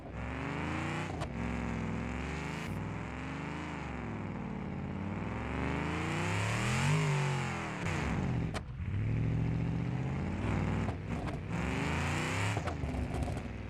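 A 1970 Cadillac Eldorado in BeamNG.drive revs and accelerates hard in a parking lot, its engine roaring loud and continuous with rising and falling pitch through gear changes and brief dips in power.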